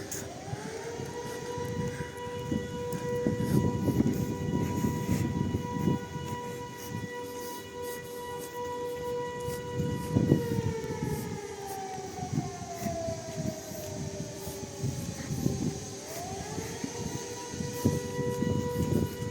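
An air raid siren wails across Truskavets, Ukraine: a loud, sustained tone that slowly glides down and swells back up again, droning continuously over faint background noise.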